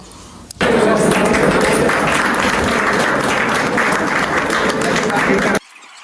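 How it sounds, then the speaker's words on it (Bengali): Sustained applause from a gathered crowd at a university football tournament event as the vice-chancellor cuts and shares a cake, loud and dense for about five seconds, then stopping abruptly, with some voices mixed in. "এরপর ভিসি স্যার এসে সবার মাঝে কেক কেটে বিতরণ করলেন এবং সবাই হাততালি দিতে দিতেছিল"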